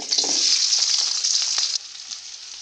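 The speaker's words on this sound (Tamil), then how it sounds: "இப்போது கடாயில் எண்ணெய் நல்லா காஞ்சிடுச்சு வெங்காயம் போடலாம்" Onions hit hot oil in a kadai and sizzle loudly and close up, a dense bright hiss that eases down toward the end, with no talking.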